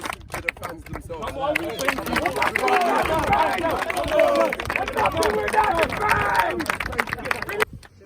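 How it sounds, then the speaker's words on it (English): A crowd of football fans and players after a London Junior Cup match claps and cheers in a noisy outdoor burst, with shouting and overlapping voices throughout. "Also, another round of applause to the fans themselves."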